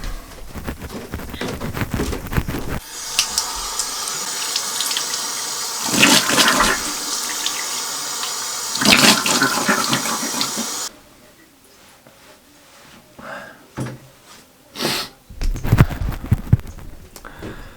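Water from a sink tap runs steadily while someone washes their face, a loud continuous splashing rush with bursts of heavier spray, then it cuts off and only faint scattered drips and small knocks remain.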